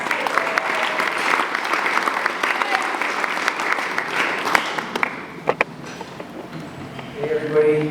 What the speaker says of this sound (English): A round of applause for Mike, please.